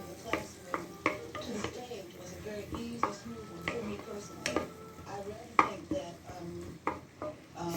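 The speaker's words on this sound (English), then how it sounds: "Get that all stirred up with the garlic." Garlic being stirred in a pot for Filipino-style sopas macaroni soup. A spoon knocks and scrapes in a fairly quick, uneven rhythm over a faint sizzle, close and moderately quiet.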